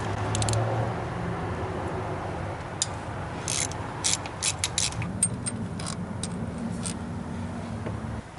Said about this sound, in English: Now it's time to start removing the cylinder head bolts.